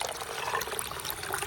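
Hot water poured into chana dal in a bowl during home cooking of crispy dal nimko, a steady, even rush of splashing liquid heard alone without any voices.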